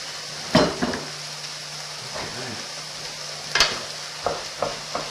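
Onion, mushrooms and pepper cooking in a pan, a steady sizzle running throughout with scattered utensil scrapes and clinks as the food is stirred, moderately close.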